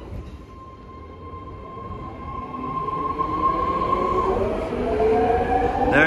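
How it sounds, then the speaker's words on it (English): A ten-car, two-door BART legacy fleet train pulls out of Pleasant Hill station. A steady rumble builds as it gathers speed, with a long tonal whine that rises and starts to squeal near the end, and no voices. "Ten-car two-door legacy fleet BART train now leaving Pleasant Hill."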